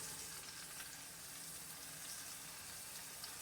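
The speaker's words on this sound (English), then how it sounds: "Okay, so we'll let that sear." Pot roast meat searing in a hot pan before going into an Instant Pot, giving a steady, faint sizzle that runs without a break, with no talking over it.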